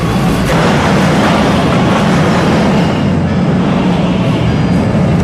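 A continuous loud rumble of a train rolling past, broadband and steady throughout, with a faint voice mixed in.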